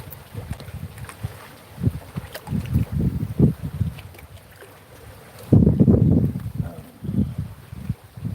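Gusty outdoor wind buffets the microphone in uneven low rumbling bursts, strongest around the middle and swelling again near the end, with no voice over it.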